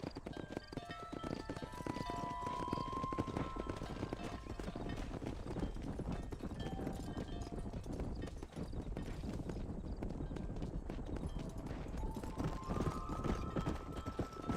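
A horse trots along while cattle are herded in Red Dead Redemption, its hooves clip-clopping in a steady, continuous rhythm under soft in-game music.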